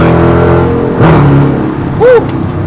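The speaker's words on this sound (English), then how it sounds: "And you get those exhaust pops and everything when you have the active exhaust system enabled" A Dodge Challenger with its active exhaust enabled revs up close and loud. Two short bursts and crackles stand out over a droning engine note.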